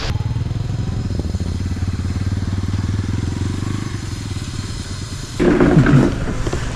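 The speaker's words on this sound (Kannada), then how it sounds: "ಸೊ ಬೈಕ್ನ ಎತ್ಕೊಂಡು ಶಿವಮೊಗ್ಗ ಕಡೆ ಇವಾಗ." A motorcycle engine drones steadily up close while riding on a weekend bike trip toward Shivamogga near Hosanagara, then swells into a louder, rougher rush for the final second or so.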